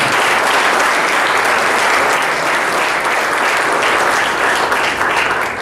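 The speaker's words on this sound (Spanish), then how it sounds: "Les invitamos a todos a que demos un fuerte aplauso en señal de entusiasmo" Loud, sustained applause from a large audience at a congress inauguration, a thick continuous roar of clapping hands holding steady from start to finish.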